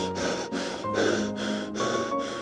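A voice imitates heavy panting breath while running uphill, with about five loud rhythmic gasping breaths in steady succession.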